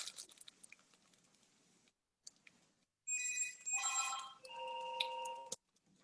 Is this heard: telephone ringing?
yes